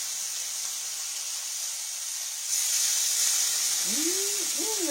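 Catfish fillets cooking in butter in a pan give a steady, close hiss and sizzle that grows slightly louder partway through, with a brief voice-like sound near the end.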